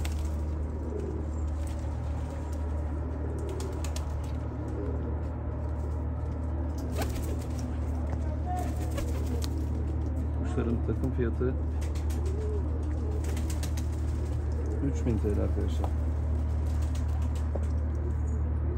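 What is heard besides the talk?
pigeons cooing, various breeds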